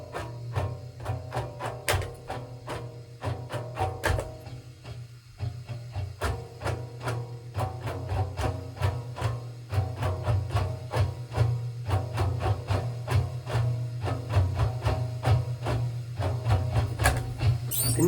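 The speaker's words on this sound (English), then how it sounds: "Just by strumming all of them at the same time." A homemade rubber band guitar strummed across all its bands at once, giving a steady run of twangy, buzzing plucks over a droning low hum, close and fairly loud throughout.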